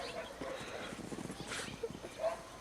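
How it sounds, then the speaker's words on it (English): A dog whimpers and gives small yips in short bursts, close by and fairly quiet, as people talk and praise it in a snowy home setting. "It's a good dog."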